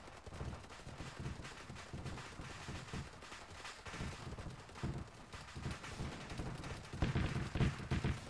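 Sustained, fairly distant automatic gunfire in an ARMA 3 battle, a dense crackle of overlapping bursts and single shots rolling on throughout with no talk.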